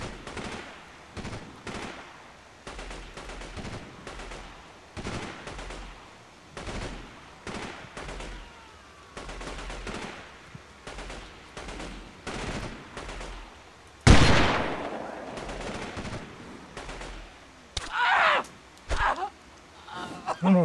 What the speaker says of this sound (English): I don't know if it's the BTR firing at me or what